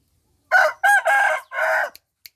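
A Burmese-type breeding gamecock crows loudly and close up, a long multi-part crow in several sustained bursts, then a couple of faint clicks, with no talking.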